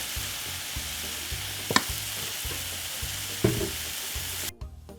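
Medium-size prawns frying in olive oil in a pan make a steady, close sizzle with a rhythmic low pulsing and a couple of sharp pops or clacks, then the sizzle cuts off near the end.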